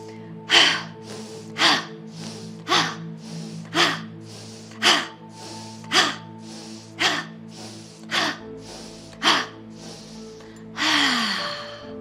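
Deep yoga breathing in a flow class, a run of strong, evenly spaced sharp breaths close to the mic over a steady low musical drone, ending in one long drawn-out breath.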